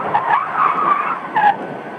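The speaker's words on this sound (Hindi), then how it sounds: "पर तभी मुझे अपने पीछे गाड़ी के ब्रेक की आवाज सुनाई पड़ी।" A cab brakes to a stop on a lonely road at night, giving a loud tyre-and-brake screech that rises twice with a short squeal near the end, alone with no talking.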